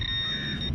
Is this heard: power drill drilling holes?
no